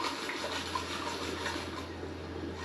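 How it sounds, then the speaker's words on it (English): Water swishing gold-panning material out of a pan on state land in the Adirondack Mountains, a steady, soft close rush of sloshing water over a faint low hum. "Gently wash the material out."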